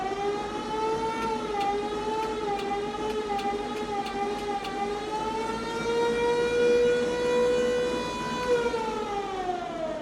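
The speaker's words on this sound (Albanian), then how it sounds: "Pas ka dhe sirenën." A siren wails continuously with a slow rising and falling pitch, loud and close, accompanied by a few sharp clicking ticks early on.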